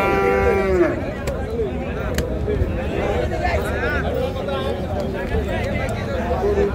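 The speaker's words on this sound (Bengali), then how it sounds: "এই যে একটা দেশি গাবি দেখা যাচ্ছে, মনে হচ্ছে যেন প্রথম বিয়ান হবে আর কি।" A local cow at a busy cattle market, lowing amid steady crowd chatter and general hubbub, with people talking throughout the clip.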